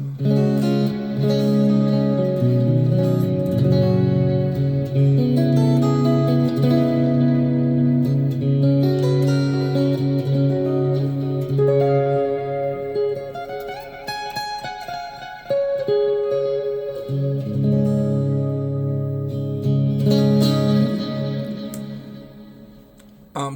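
Sustained chords ring out through reverb and delay effects from the McRocklin suite, with layered echoing tails swelling and decaying continuously and loudly, no talking.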